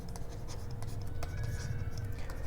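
Chalk or a marker scrapes across a board in a Class 10 maths lesson on real numbers. It makes quick, repeated scratchy strokes with light taps, close and fairly quiet, with no talking.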